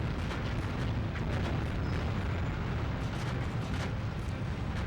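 A nuke going off in a tank battle video game, a sustained, roaring explosion with dense rumbling and crackling debris that fills the whole stretch without letup.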